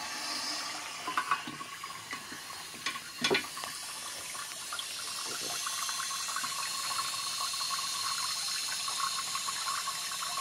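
Water runs steadily into a 1958 Briggs toilet tank through a brass fill valve, a constant hiss with a few clicks and small splashes early on, fairly quiet and uninterrupted.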